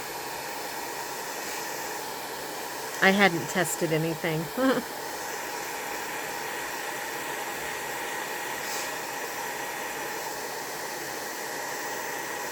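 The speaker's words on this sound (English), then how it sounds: "I'm going to take my dryer again." A hair dryer drying paint on holiday ornaments makes a steady, close whooshing hiss throughout, with someone speaking briefly over it.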